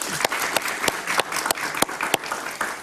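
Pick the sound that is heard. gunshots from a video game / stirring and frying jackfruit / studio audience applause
studio audience applause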